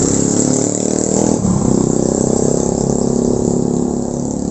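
A motorcycle engine with a newly replaced spark plug runs steadily and loudly at a close, even idle, its smooth mechanical hum unbroken for the whole stretch.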